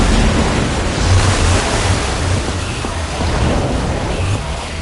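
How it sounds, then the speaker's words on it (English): Heavy, continuous rushing water pours out of a device in the Minecraft Story Mode video game, a loud, steady broadband roar that holds for the whole stretch with no talk over it. "I don't know how much water this thing is going to kick out"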